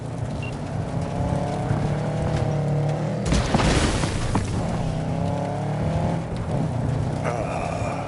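A car drives in Cyberpunk 2077 with a steady, loud engine drone that rises and falls in pitch, broken by a brief rushing surge partway through. No one talks.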